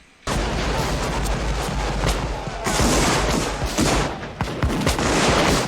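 Rifle volleys and scattered musket fire in a Civil War battle scene from the 1989 film Glory: dense, loud, continuous crackling gunshots with sharp individual reports and rolling booms, no music underneath.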